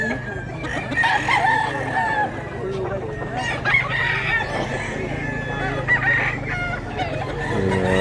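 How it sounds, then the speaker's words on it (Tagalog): Chickens clucking and roosters crowing at a busy poultry market, several loud crows rising over constant clucking and crowd murmur, with people talking nearby throughout. "Nagangig manok mga idol."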